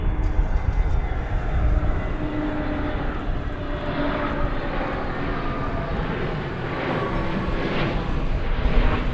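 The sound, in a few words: Frontier Airbus A320neo jet arriving from Denver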